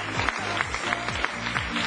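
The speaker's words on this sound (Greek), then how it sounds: "Καλέ, χειροκροτήστε τα αγόρια μας, καλέ." Studio audience applauding on a Greek daytime television show: a dense, steady burst of many hands clapping, loud and close throughout.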